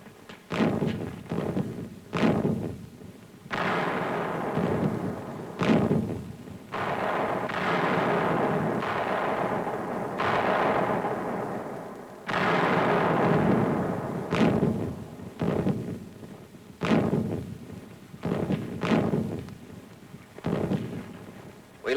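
Tank guns fire at the Anzio beachhead in heavy booms and blasts, some sharp and close, others rolling and rumbling on at length, loud and recurring at irregular intervals through the stretch.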